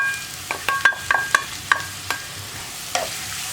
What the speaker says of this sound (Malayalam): അപ്പോൾ നമുക്ക് വേഗം വഴറ്റിയെടുക്കാം.